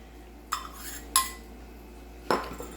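A utensil mixes seasonings into hot oil for Nashville hot chicken, giving three sharp clinks against the bowl spaced about a second apart over a quiet background.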